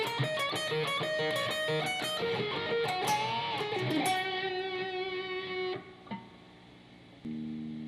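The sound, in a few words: guitar playing solo parts 4 and 5 at full speed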